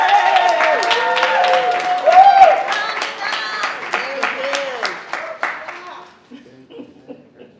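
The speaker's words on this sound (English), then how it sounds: "Let's give these folks another round of applause." Applause from the audience at a graduation ceremony, a moderate scattering of claps that gradually fades out.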